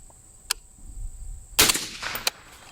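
A rifle fitted with a suppressor fires a single muffled shot at a screwdriver, heard alone and close. A faint tick sounds first, then a short, dull thump with a brief tail, followed by a small sharp click.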